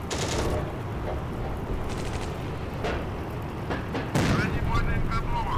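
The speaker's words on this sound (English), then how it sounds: "I think they're shooting at my other tank here." Tank cannon and machine-gun fire in the Steel Fury tank simulator, with a T-50 tank in combat: repeated sharp bursts and booms over a dense, continuous rumble, loud and close, with a voice speaking over it.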